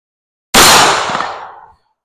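A single loud, close shot from a S&W Bodyguard 2.0 .380 pocket pistol at an outdoor range, a sharp crack with a decaying tail lasting about a second, then silence.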